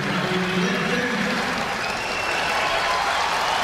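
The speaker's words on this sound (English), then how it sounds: "the cheer you're hearing right now" A large basketball crowd applauds and cheers continuously, a dense, loud wash of clapping and voices that holds steady from start to finish.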